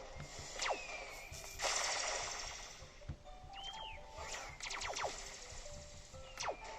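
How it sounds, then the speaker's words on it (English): Rapid bursts of robot gunfire in a Roblox video game, crackling automatic volleys and laser-like zaps repeating throughout at moderate level with no talking. "Tell your bots to attack. So you get new bots and you shoot stuff."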